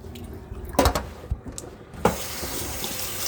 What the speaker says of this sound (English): And then we're going to rinse with cold water.